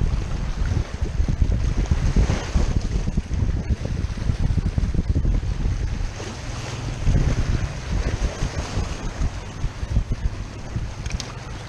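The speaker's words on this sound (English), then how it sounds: "the amount of wind and wave action that we've got going here" Loud gusting wind buffets the microphone over rolling waves breaking on a southeast Queensland shoreline during land-based lure fishing, a continuous roaring wash with no talk.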